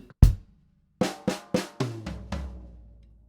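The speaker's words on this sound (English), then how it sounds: "Okay, so that nice high to low sound for that fill." Short drum fill on a kit, a sharp snare hit followed by a quick run of strokes descending from the high tom down to the floor tom, each hit ringing and decaying, played alone and close.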